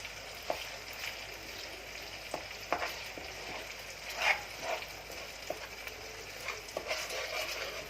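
Garlic and ginger paste, two tablespoons, fries in a pan with a steady soft sizzle, broken by a few brief stirring scrapes and clicks, one slightly louder around the middle.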